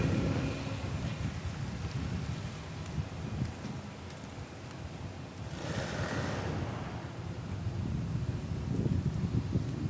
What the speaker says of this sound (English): I'm about to go out here in the rain